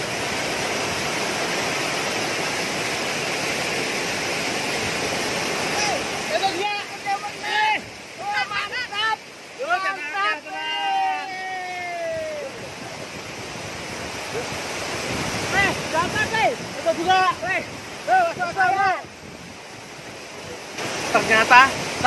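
River water flowing steadily around a person bathing and hunting fish in a river, a continuous rushing wash that fills the clip, with voices talking over it in the middle section.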